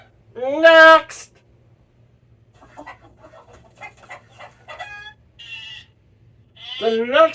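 A voice imitates a sheep with a loud, wavering bleat, then quieter clucking and chattering noises, and ends with a second bleat, all performed close and alone.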